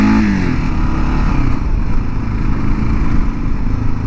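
A 2022 Kawasaki KLR 650 engine drones loud and steady while riding, a close, continuous low rumble with no pauses throughout.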